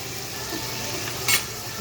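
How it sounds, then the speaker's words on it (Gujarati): Potato pieces for sabudana khichdi fry in oil, a close steady sizzle with a brief metallic stirring scrape near the end. "પછી એને બી તેલમાં બટેટા નાખીને ચડાવે, હલાવી દેવું."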